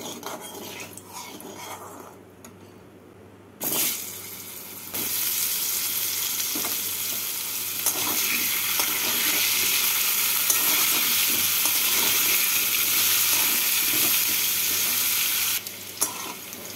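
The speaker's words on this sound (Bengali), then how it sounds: "নুন আর হলুদ দিয়ে তেলটাকে ভালো করে গরম করে নিয়ে এর মধ্যে আমি আলুগুলোকে ভেজে তুলে রাখবো" Potatoes fry in hot oil seasoned with salt and turmeric for the Bengali dish muro alur ghonto. After a brief dip, a steady, loud broadband sizzle sets in, with occasional scraping and stirring sounds.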